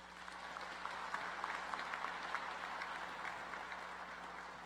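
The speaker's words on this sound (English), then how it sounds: "Please give them all a warm round of applause" A large audience at a university winter commencement ceremony applauds the platform party, steady distant clapping filling a big hall with a faint underlying hum, continuing evenly without letup.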